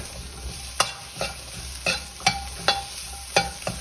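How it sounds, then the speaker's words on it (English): Vegetables sizzle steadily in a hot wok while a utensil scrapes and clacks against it in repeated stir-frying strokes, close and fairly loud. "so I'm stir frying mine"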